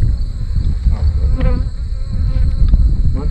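Bees buzz steadily inside an insulated Apimaye beehive, a dense, continuous drone of many insects close by with no talking.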